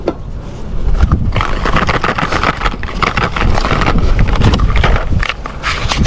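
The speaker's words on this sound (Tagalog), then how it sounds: "Medyo malakas ang hangin ngayon ah." Strong wind buffets the microphone in steady, rumbling gusts, loud and continuous throughout, with faint scraping underneath.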